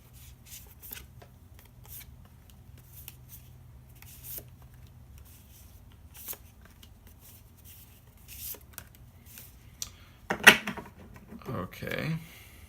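Tarot and oracle cards are shuffled quietly up close in soft, repeated riffling flicks, with a brief louder shuffle and handling of the deck near the end, under a calm speaking voice.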